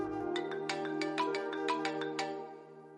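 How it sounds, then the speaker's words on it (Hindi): A mobile phone ringtone plays indoors, a bright electronic melody of quick repeated tones over a sustained chord, fairly close and fading slightly near the end, with no talk over it. "नफीसा का फोन।"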